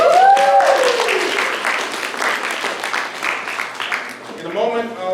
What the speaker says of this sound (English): Can we get a round of applause for STEPIC?